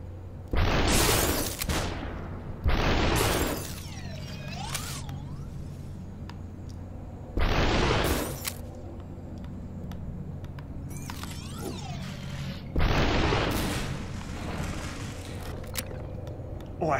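Gunshots in the video game SUPERHOT, several loud, broad blasts spaced a few seconds apart, each ringing briefly over a low steady background hum.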